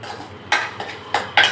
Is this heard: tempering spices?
yes